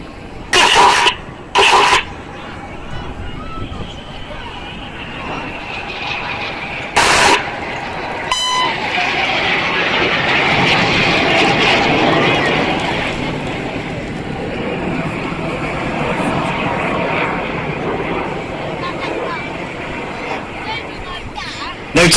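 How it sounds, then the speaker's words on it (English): Red Arrows jets at the Clacton air show roar overhead as they close and cross in opposing 6G turns, a broad rushing jet noise swelling and holding loud after a few short bursts. "They're closing at 800 miles an hour and they're going to cross 3 times in opposing 360 degree 6G turns"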